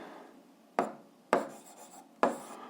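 Three separate scratchy strokes of a pen or chalk on a writing surface during an algebra lesson, each a short sharp rasp with quiet pauses between, close and fairly clear.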